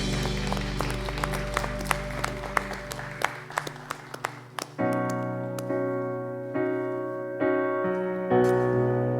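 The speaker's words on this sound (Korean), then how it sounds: "우리 하나님께 영광의 박수 올려드리겠습니다." Congregation clapping during a Wednesday worship service at Yeouido Baptist Church, rhythmic claps over sustained music that shifts into held organ-like chords for the second half.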